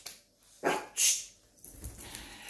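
A dog gives a couple of sharp, fairly close barks with short gaps between them, followed by a softer whimpering yip indoors.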